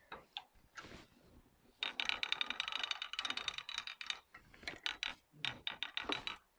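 A longarm quilting machine stitches with the needle down while finishing quilt binding, giving a rapid mechanical ratcheting chatter in bursts, close and fairly loud, with short pauses between runs.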